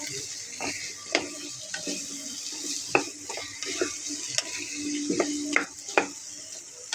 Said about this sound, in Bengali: মশলার সাথে মিশিয়ে একটু 5 মিনিটের মতন ভালোভাবে কষিয়ে নেব মিষ্টি কুমড়োটা